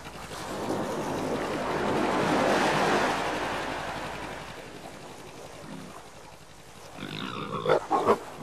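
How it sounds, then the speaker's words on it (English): A wild boar roots and feeds at low tide on the Atlantic shore, its soft grunting snuffles rising near the end over a broad surf-like wash that swells and fades. "At low tide, the wild boar roots out and feeds on a variety of organisms that the ocean offers up."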